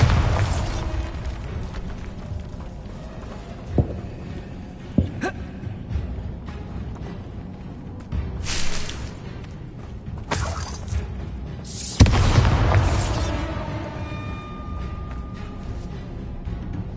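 The Bombarda spell goes off in the video game Hogwarts Legacy as several separate booming blasts with shattering debris and sharp cracks, spread across a stretch of clattering game sounds; the loudest bursts are close and heavy.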